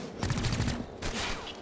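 Gunshots in XCOM: Chimera Squad, a short cluster of sharp cracks followed by a second burst about a second later, fairly close and moderately loud with game ambience beneath.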